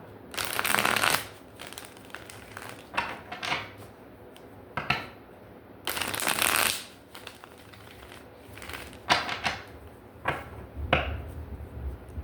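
Tarot cards being shuffled close up in repeated bursts of riffling and rustling, with brief quiet pauses between bursts and no voices.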